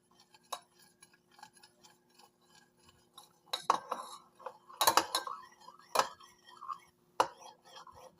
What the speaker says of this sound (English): You're going to use your spoon to stir the food coloring into the oil